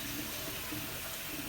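Tap water steadily filling a pot, a continuous soft rushing splash at moderate distance with no breaks.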